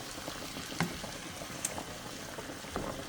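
Tomato sauce of canned tomatoes and pasta sauce simmers in a pan, bubbling softly and steadily with a few small pops over a low wash of noise.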